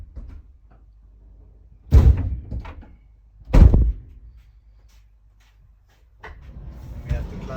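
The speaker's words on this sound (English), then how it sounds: "we have to close the side door" Van doors are shut at night, two heavy slams a couple of seconds apart, close and loud, with quiet rustling and murmured talk in between and after.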